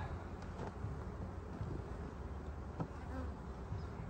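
Honeybees around an open beehive early in the season give a faint, steady buzz from many insects close by. Light wind noise and brief rustles sit over it, and no one speaks.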